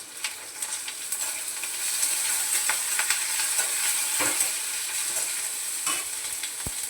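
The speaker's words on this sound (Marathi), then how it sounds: "तिळ उडतात" Sesame seeds splutter in hot oil in a home kitchen, cooked for a village-style drumstick curry. A dense, close sizzle carries scattered sharp pops and crackles throughout.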